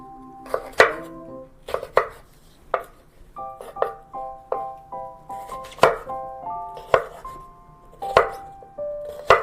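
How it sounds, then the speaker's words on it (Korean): A knife chops through onion on a cutting board in about a dozen sharp, crisp strokes at an uneven pace, close up with no talking. "양파도 먹기 좋은 크기로 썰어 줄게요"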